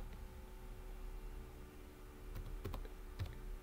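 Computer keyboard typing while filling in an Excel spreadsheet, a few soft clicks clustered near the end over a steady background hiss, quiet and close.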